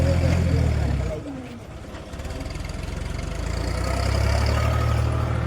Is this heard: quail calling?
no